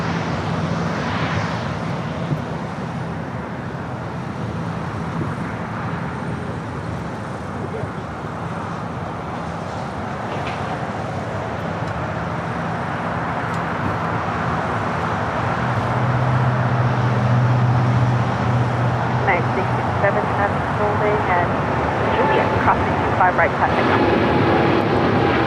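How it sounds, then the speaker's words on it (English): A Korean Air Cargo plane rolls for takeoff on runway 25 right at LAX, a broad, steady jet roar that swells toward the end, with a voice speaking over it. "we have Korean Air Cargo now rolling on 25 right"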